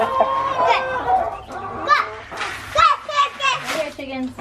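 Farm chickens cluck and squawk close by in a series of short, uneven calls while a person talks among them during morning chores.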